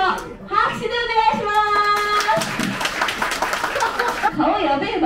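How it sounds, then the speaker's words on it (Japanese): A group of people claps hands in a short burst of scattered applause, mixed with chuckles and talking voices. "やりたい人拍手でお願い"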